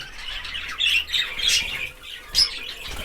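Budgerigars squawking and chirping at close range: a run of short, shrill, scratchy calls in uneven bursts, with a louder squawk near the end and a little wing flutter.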